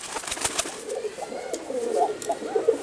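A blorok pigeon coos softly, several low burbling calls rising toward the end against light background noise.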